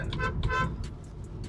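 A Kia Carens Clavis EV's horn gives several short, nasal toots in quick succession, close by, over a low rumble of engine and road noise.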